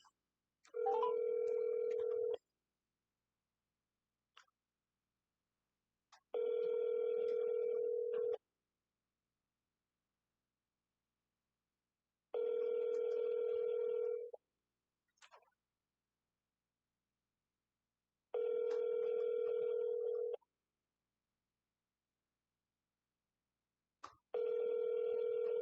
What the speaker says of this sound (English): I'm calling the number right now, and I'm going to put it on speakerphone.